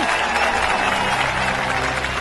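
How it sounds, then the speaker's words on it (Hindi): Crowd clapping in a Telugu action film scene, a continuous rush of many hands over a low steady hum with voices mixed in. "ताली बजाओ ताली"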